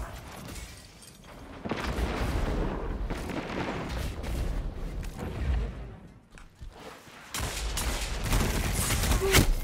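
Bursts of rapid submachine-gun fire ring out in a Destiny 2 firefight, loud and close, with booming impacts and brief pauses between volleys.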